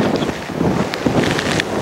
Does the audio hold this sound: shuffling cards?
no